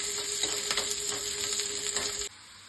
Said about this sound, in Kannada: ಅದನ್ನು ಅಷ್ಟೇ ಚೆನ್ನಾಗಿ ಫ್ರೈ ಮಾಡ್ಕೊಳ್ಳಿ.